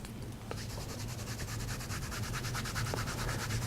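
Gentle rubbing over freshly applied kinesiology tape on the hip to set its adhesive, a soft steady scratchy friction running through without a break, close by and fairly quiet.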